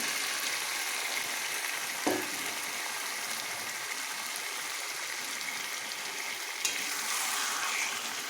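Marinated chicken frying in a spiced masala in a pan: a steady, soft hiss of sizzling oil, with a couple of brief clinks of a utensil against the pan and no talking.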